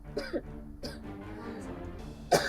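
A short cough from a participant in a Hindi-language television debate studio, a couple of brief bursts early on and another near the end, set against a quiet background murmur.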